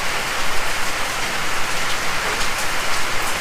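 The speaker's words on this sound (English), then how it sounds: "we're getting some much needed rain" Steady, dense rain falls and hisses on surfaces nearby, loud and continuous with no voices.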